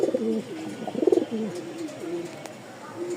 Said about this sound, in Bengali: এই যে দেখেন পাকিস্তানি ইউরোপিয়ান টয় লাহোরি, এটা মেলটা আর ওইটা হচ্ছে ফিমেল